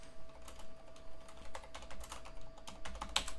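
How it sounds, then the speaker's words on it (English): Rapid clicking of keys on a computer keyboard, close and fairly quiet, with irregular bursts and a steady faint hum underneath, no voices. "What are you typing?"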